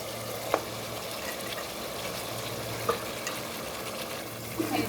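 Chicken pieces frying in a pot for chicken tehari, a low steady sizzle with occasional sharper crackles and stirring clunks, close and moderately quiet, no talking.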